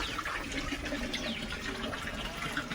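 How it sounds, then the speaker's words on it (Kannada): Water running into a tank, a steady rushing, splashing pour that stays even and moderately close throughout, with no talking. "ನೋಡಿ ತೊಟ್ಟಿಗೆ ನೀರು ತುಂಬಿಸ್ತಾ ಇದೆ ನಮ್ಮ ಗಂಡು"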